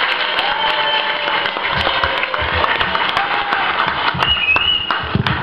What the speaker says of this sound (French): un grand applaudissement pour ce camarade-là